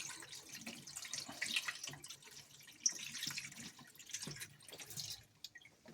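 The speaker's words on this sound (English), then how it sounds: "Maybe you can see the water level gradually rising." Tap water running into the drum of a Samsung front-load washing machine during a deep-clean cycle, a steady close splashing trickle with small drips, alone without voices.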